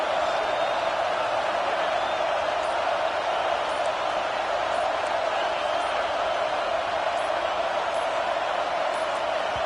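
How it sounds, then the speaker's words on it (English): A stadium crowd roars loudly and steadily through a football game on fourth down with inches to go, a dense, unbroken wall of noise that never lets up. "with this place rocking, the crowd forces a false start"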